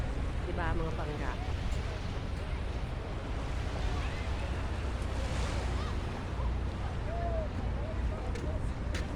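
Steady wind and surf fill a hot seaside beach in a continuous broadband wash. The wind buffets the microphone, and faint voices and brief calls drift in the background.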